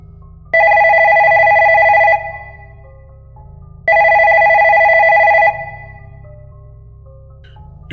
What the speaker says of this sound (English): his phone rang.